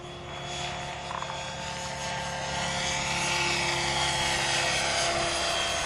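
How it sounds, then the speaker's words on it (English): A radio-controlled helicopter flies outdoors on a windy day, its steady whining rotor and engine drone continuous and fairly loud, slowly swelling as it nears, with no talking. "There's something about the bigger helicopter."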